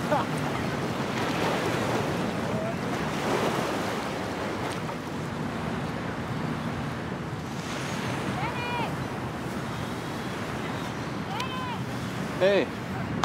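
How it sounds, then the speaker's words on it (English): Waves at a beach wash in as a steady broad surf roar with wind noise across the whole stretch, while faint voices and a few brief tonal chirps sit in the background. "We're at the beach right now."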